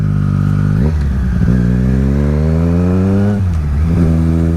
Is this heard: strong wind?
no